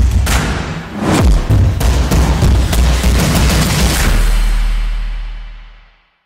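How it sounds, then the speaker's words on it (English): Gunfire and explosions from the video game Uncharted: Legacy of Thieves Collection: loud booming blasts and sharp shot cracks in a dense opening burst, settling into a low rumbling drone that fades out. "Just follow the sound of gunfire."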